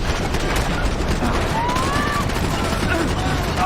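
Sustained gunfire in the video game Max Payne 3, a dense, continuous rattle of rapid shots filling the whole stretch at steady loudness with faint tonal whistles on top.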